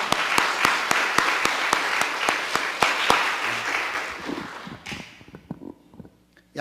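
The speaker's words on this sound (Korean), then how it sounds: "하나님께 박수로 영광 돌립시다." A Baptist church congregation claps in unison: sharp, evenly spaced beats over a wash of scattered applause that grows thinner and fades out near the end.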